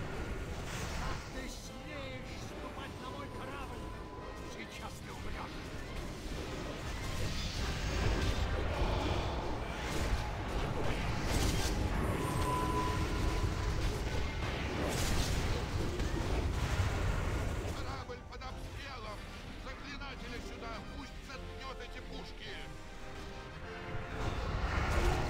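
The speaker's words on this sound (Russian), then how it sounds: "Пушки." Heavy cannon blasts boom repeatedly amid rumbling naval battle noise in a video game, with voices talking over the din.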